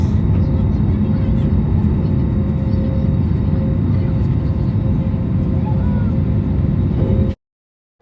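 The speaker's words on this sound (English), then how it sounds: "the flight took off after a delay of around 25 minutes." A passenger airplane taking off on a Goa to Coimbatore flight, heard as a loud, steady, close roaring rumble that holds constant before cutting off abruptly.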